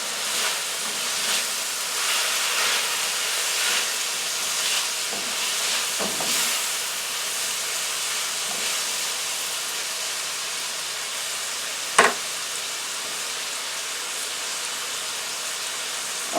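Sliced zucchini frying in olive oil in a pan, a steady close sizzle and hiss with faint stirring scrapes and one sharp clink partway through, with no talking.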